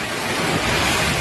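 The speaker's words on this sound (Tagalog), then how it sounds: "Rinig at kita sa video kung gaano kabagsik at katindi ang bagyong Nika." A brief, loud, unbroken roar of Typhoon Nika's wind and heavy storm noise in Nueva Ecija, a broad rushing wash with no pauses and no voices.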